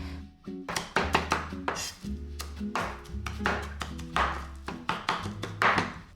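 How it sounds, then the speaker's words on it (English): A knife chops bonito flakes into pickled plum paste on a cutting board, giving a rapid, steady series of close, crisp taps and thunks with no talking. "add bonito flakes and keep chopping as you mix it"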